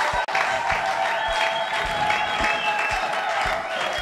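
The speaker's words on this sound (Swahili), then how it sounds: "Naomba makofi kwa ajili ya Bwana. Applaudissons pour le Seigneur." Church congregation applauding for the Lord during a sermon, a continuous crowd clapping with a few low thumps and a faint tonal hum beneath, steady and moderately loud across the whole stretch.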